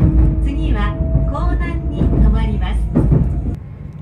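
A Meitetsu train pulls into Iwakura Station, with a loud low rumble of wheels and motor, squealing brake tones and clunks as it slows, heard close from inside the car.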